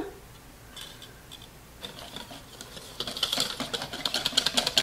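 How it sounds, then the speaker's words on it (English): Steady, fast rhythmic clatter of a whisk beating all-purpose flour into batter for baked chile rellenos, growing louder and busier toward the end, close and with no voices. "add 1/4 cup flour. This is all purpose. We're going to add that and then whisk it in."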